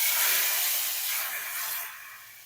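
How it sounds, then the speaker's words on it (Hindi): Hot desi ghee tadka poured into cooked dal, a loud, close sizzling hiss that starts at full strength and slowly fades over a couple of seconds, with no talking. "अब इसको मैं दाल के लिए तड़के में इस तरह से डाल दूंगा।"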